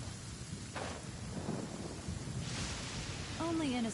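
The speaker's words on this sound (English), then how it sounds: "It's raining again?" Rain in Genshin Impact, a steady hiss of downpour with a low rumble of thunder under it, plus a brief voiced sound near the end.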